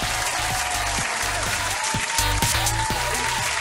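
Quezon City audience at a live Filipino entertainment show cheering and applauding loudly, dense steady clapping and crowd noise with music thumping underneath, close and continuous.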